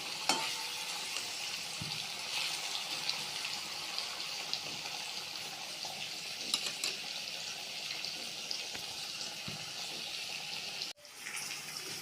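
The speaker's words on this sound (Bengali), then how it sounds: "পনিরগুলো ভাজা হয়ে গেছে" Paneer frying in oil in a kadai, giving a steady, moderately loud sizzle and crackle with occasional stirring clinks, all without any talking.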